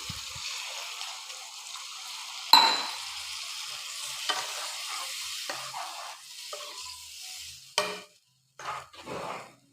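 Water splashes into a hot pan of simmering fish curry with a sudden hiss, then the pan settles into a soft sizzle with faint stirring and clattering, nearby and fairly quiet.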